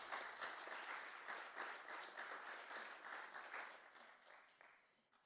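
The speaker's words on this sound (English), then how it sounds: "clap it up" A small audience at a museum program claps in a faint, fairly even round of applause that tapers off toward the end.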